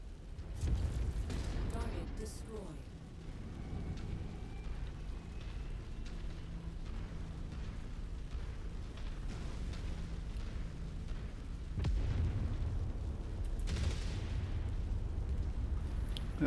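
Vehicle-destroying explosions in the MechWarrior video game, a continuous low rumbling with heavier booms near the start and again later, overlaid by faint game voice callouts.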